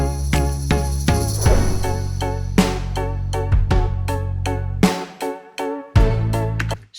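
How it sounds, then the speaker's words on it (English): Chorus section of a pop-soul track where sustained strings enter over a punchy kick drum and deep bass, with rhythmic hits and a brief dropout before the groove returns, loud and upfront without talk. "we have these strings that comes in with the kick and the bass"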